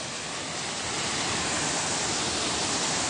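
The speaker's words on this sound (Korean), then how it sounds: "소리 들리지? 파도, 이거 파도." At Sojeongbang waterfall, where sea waves meet falling water, a dense, steady roar of rushing water and surf fills the air, loud and unbroken throughout.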